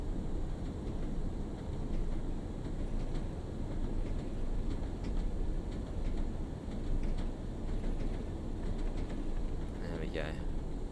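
A Class 101 diesel train in Train Sim World 4 runs at speed with a continuous, steady low rumble and rattle of rolling wheels, and a brief higher squeal near the end.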